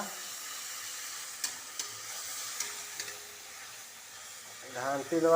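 Ginger-garlic masala frying in a pan while being cooked for a chicken dish, with a steady soft sizzle, occasional utensil clinks, and stirring scrapes growing louder near the end.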